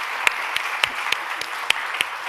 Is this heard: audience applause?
yes